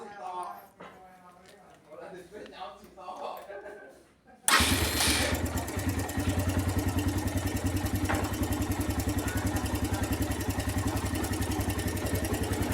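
A Suzuki Thunder 125 motorcycle engine starts abruptly after someone speaks, then settles into a steady, loud low-RPM idle with an even, rapid thumping pulse close by.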